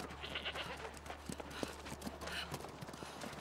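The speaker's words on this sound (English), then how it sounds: "Sheep is chasing Ricky over here. It's not a goat, it's a sheep." A sheep bleats in a video game, giving a few short, thin calls at moderate level over a soft, steady background with faint clopping sounds.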